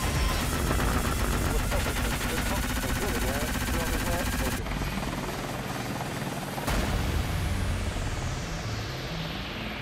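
A Tigre combat helicopter flies amid gunfire. Its rotor roar and bursts of shots form a loud, dense wall of sound that cuts abruptly partway through and then resumes, never dropping to quiet.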